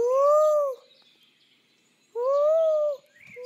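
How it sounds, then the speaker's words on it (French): Two drawn-out owl hoots, evenly spaced and clear, from a French read-aloud of The Gruffalo, each hoot standing alone against near silence. "J'entends ululer là-bas."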